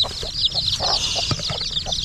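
Chickens and chicks in a coop: a dense, continuous chorus of high chick peeping with lower hen clucks scattered through it, close and loud.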